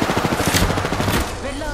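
Rapid automatic gunfire rattles in a fast, steady burst in a video game, loud and close, then breaks off near the end.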